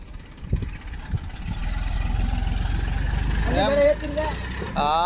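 A new car stuck in sand, its engine held at a steady high-revving drone close by, with voices calling out over the noise.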